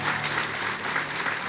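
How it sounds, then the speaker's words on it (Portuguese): A church congregation gives a steady round of applause at worship, the clapping filling the space evenly with a faint low hum underneath. "uma linda salva de palmas"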